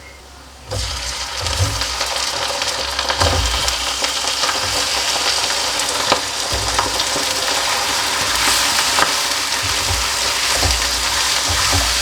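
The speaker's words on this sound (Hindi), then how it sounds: "तो अच्छी तरह से यहाँ पे हम चिकन को फ्राई कर लेंगे, भून लेंगे।" Chicken sizzles loudly and steadily in a hot pan with fried garlic, cooking for biryani, with occasional soft stirring thumps and no voices.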